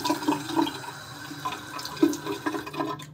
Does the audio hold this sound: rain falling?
no